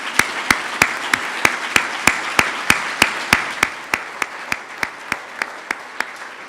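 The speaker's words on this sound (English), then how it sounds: "Let's give James one more round of applause" Rhythmic, evenly spaced hand claps, about three per second, ring out over a soft bed of audience applause for a speaker at a live event, sharp and fairly close, with no talk over them.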